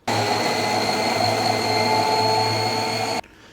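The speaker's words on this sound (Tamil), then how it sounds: "பீட்ரூட்டை இந்த மாதிரி கட் பண்ணி மிக்ஸி ஆன் பண்ணி புஷ்ஷரை லைட்டாக நீங்கள் புஷ் பண்ணிங்கன்னா" Loud, steady motor whine of a Preethi Zodiac food processor grating beetroot, running continuously close by, then cutting off abruptly near the end.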